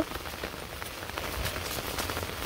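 Steady rain falling on a surface, with scattered droplet taps over a continuous patter, moderately close and unbroken throughout.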